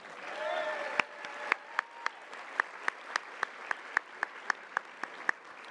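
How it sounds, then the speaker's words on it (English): An audience at a luncheon applauds the conference hosts, a faint voice fading out at the start before sharp individual claps ring out in a loose, spaced rhythm, some close and loud, over a soft crowd murmur. "Let's now give them a round of applause"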